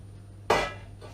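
A single sharp clatter as potatoes are stirred in a pan for a Spanish omelette, with a fainter knock just after and a low hum in the background.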